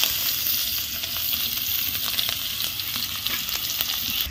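Onion dropped into hot oil with panch phoron and dried chilli for a drumstick and koi fish curry, giving a loud, continuous close-up sizzle with faint crackles throughout.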